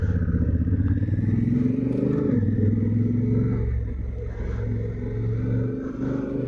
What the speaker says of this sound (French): C'est le bruit d'échappement, quoi.